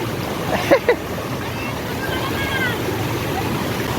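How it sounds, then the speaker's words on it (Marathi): Churning, foaming water at Palasdhari dam during heavy rain, a steady broad rush filling the whole stretch, with brief laughter and a voice near the start. "पाणी बघा कसलं खदलतोय"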